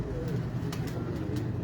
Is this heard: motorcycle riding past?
no